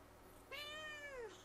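A house cat gives a single clear meow lasting most of a second, close and distinct against a quiet room.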